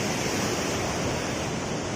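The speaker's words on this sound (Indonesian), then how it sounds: "Saya berdiri di karang yang di bawah terlihat ombak air lautnya." Sea waves break and wash below a coral cliff edge, a steady, dense roar of surf filling the whole stretch with no pauses and no voices.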